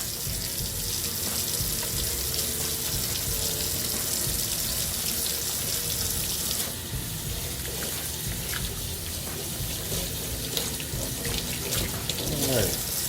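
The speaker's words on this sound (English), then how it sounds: "you always got to wash your hands and be safe" Water runs steadily from a kitchen tap into a sink during handwashing, a continuous close hiss and splash with small shifts as hands move under the stream.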